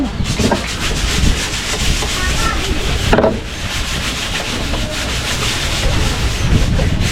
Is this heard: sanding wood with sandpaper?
yes